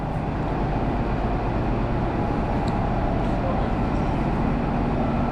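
A train's diesel locomotive engine, one of a pair of 2,000-kilowatt units pulling and pushing, runs with a steady, dense, loud rumble and does not change in level.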